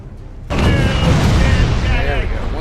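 Ship cannons firing in the naval video game Furious Seas: a sudden heavy boom kicks in and rolls into a sustained, rumbling barrage with crackling debris, loud and close, while a voice speaks over it.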